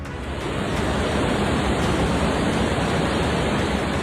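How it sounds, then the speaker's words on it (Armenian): The Vachagan river in Kapan, swollen after heavy rain, rushes with a loud, steady, unbroken roar of water and no voices. "Կապանում Վաճական գետի մակարդակն արդեն զգալիորեն բարձրացել է"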